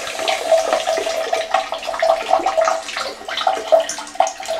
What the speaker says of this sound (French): on va faire le premier lavage. Alors ça se rince.